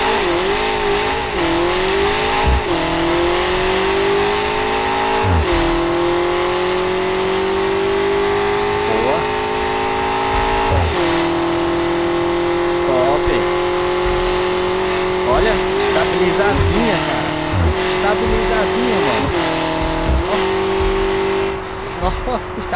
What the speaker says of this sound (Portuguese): Tô aqui, pessoal, na BMW zona do Diego, olha só isso. Cara, a pista tá boa, hein? Olha só. Nossa! Que brabo, pessoal. Vamos acelerar, então